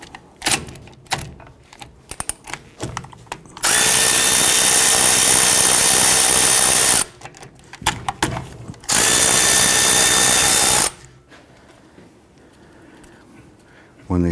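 A power tool, likely a drill, loosens the 17mm brake caliper slide-pin bolts on a 2007-2021 Toyota Tundra with the wheel off: two loud, steady whirring bursts of about three seconds each, separated and surrounded by quieter clanks and handling noise.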